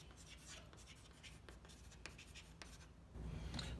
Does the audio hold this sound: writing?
yes